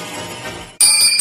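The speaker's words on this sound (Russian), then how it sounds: "Вот так звучит колокольчик." A small bell rings out suddenly after a brief silence, bright and clear, with a short shimmering tone.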